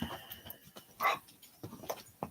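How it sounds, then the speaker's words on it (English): Restless pet dogs whimper and stir nearby, giving scattered short whines and a few sharp yelps among rustling movement, fairly faint overall. "My dogs are getting antsy."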